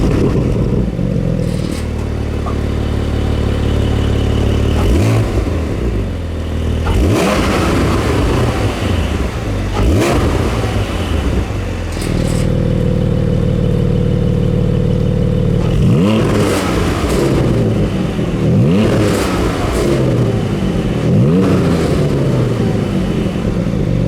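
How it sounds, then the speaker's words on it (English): A 2020 Porsche 718 Cayman GT4 with a split-exit valve-controlled exhaust and particulate filter, loud and close, holds a steady idle, then blips sharply several times with rising and falling revs, clustered toward the end. "There's also a new split-exit valve-controlled exhaust system with a particulate filter."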